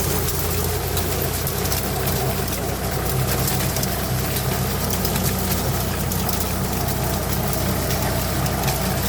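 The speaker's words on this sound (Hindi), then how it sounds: "वो जो मशीन है उसी का जो है पत्ती को इकट्ठी करता है, ये ट्रैक्टर के पीछे जुड़ रहे" Tractor-drawn square baler gathering crop residue in a field, a loud continuous engine and machinery drone at steady volume throughout.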